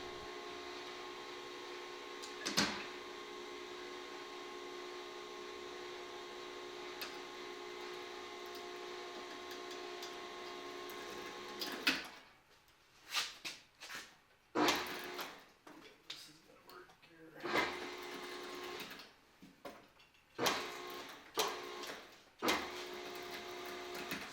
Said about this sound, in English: This whole bending press operates at 1800 to 1, so it's fairly slow